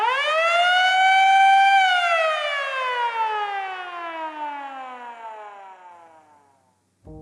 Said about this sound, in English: Air raid sirens are a regular feature.